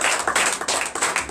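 A church congregation at a Sunday service in Benin clapping in acclamation, with dense, rhythmic handclaps repeating in quick bursts, loud and close.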